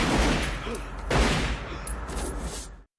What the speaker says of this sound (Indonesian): dengan refleks Vincent dapat dengan mudah menembak buruannya